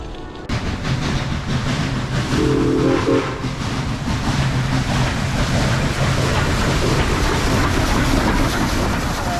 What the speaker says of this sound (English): That was the Western Maryland train that just came by.